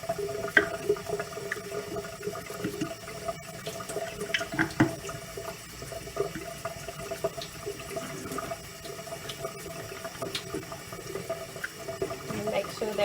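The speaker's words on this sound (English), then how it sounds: "We then scrub them individually with cool running water using a soft bristle brush." Items are scrubbed individually with a soft bristle brush under cool running water from a tap, a steady hiss of flowing water with faint scraping and clinks throughout.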